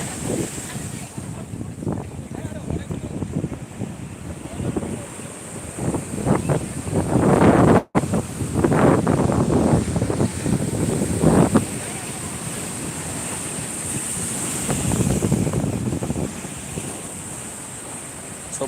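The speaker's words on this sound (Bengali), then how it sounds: "এখন সেই সমুদ্রের উত্তাল ঢেউ দেখো পুরো সুবিচটা" Rough sea surf crashes continuously onto Shankarpur beach, a loud, rolling roar of breaking waves with heavy wind buffeting the microphone and faint voices in the background.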